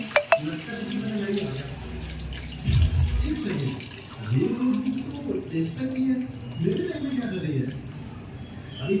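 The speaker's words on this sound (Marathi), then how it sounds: "त्याचं पाणी असं काढून टाकायचं." Water splashes and runs off as it is poured away from crabs being prepared for cooking, while a person keeps talking over it.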